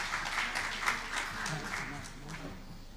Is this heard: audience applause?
yes